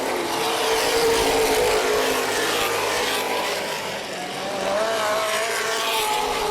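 Late model race cars circle Baer Field Speedway, several engines roaring loudly together as a pack, with revs rising and falling and a brief dip in volume as cars pass by.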